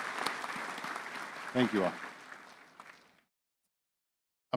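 An audience at a spring college commencement ceremony applauds the trustees. Steady, moderately loud clapping runs for about three seconds while someone briefly speaks over it, then the clapping stops abruptly and silence follows.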